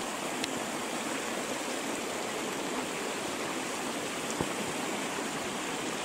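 A mountain stream rushing steadily along the path toward a waterfall on a hike from Rottau to Bernau, a dense, even broadband roar that is close and continuous, with no talking.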